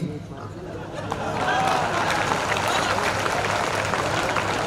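Audience applause at a Kavi Sammelan comedy poetry event builds into a dense, steady clapping wash that stays loud and sustained for several seconds, with crowd murmur mixed underneath.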